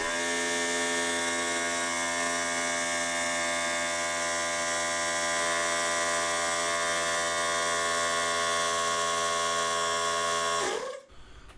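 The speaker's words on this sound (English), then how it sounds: "The VEVOR compressor and a little noisy one from Canadian Tire." A VEVOR 10-gallon 90 PSI air compressor runs about a metre away, a steady motor hum with a constant tonal drone that holds evenly for several seconds before abruptly shutting off.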